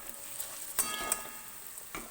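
A small splash of water hits spice paste cooking over low heat for a spicy egg tarka. A faint, steady sizzle breaks into a few sharp crackling bursts.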